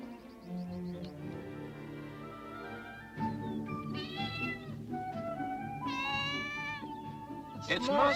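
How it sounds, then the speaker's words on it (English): A cat meows repeatedly, a series of rising and falling drawn-out cries, fairly near, over a soft room background. "Nobody need ever feel sorry for that cat."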